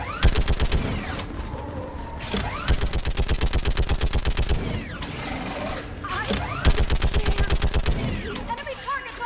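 Sustained automatic weapon fire in the Mass Effect video game, loud and close, coming in long rhythmic bursts of evenly spaced shots separated by brief pauses, with occasional mechanical clanks between the volleys.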